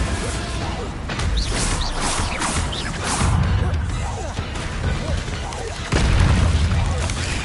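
A Bombarda blasting spell goes off in the video game Hogwarts Legacy, with heavy booms and crashing impacts over rumbling combat noise, and game voices around it.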